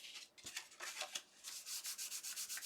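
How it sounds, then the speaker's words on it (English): A fingertip rubs firmly over glued paper, a series of soft, close, rhythmic swishing strokes that grow quicker and more regular toward the end. "Do a finger burnish."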